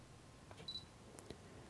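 Faint camera clicks over a soft hiss: a quick beep-like tone, then a brief shutter release snap, with another click shortly after, from a Hähnel Giga T Pro II remote shutter release, half-pressed to focus then fully pressed.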